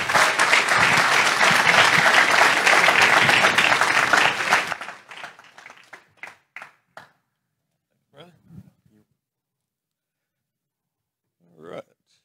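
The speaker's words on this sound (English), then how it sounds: "So everybody give Chad Riley a hand of applause there." Audience at a Skyfall 2023 talk on skinwalkers and the unseen realm breaks into loud, dense applause that stops abruptly, leaving a few scattered late claps and faint sounds in a quiet room.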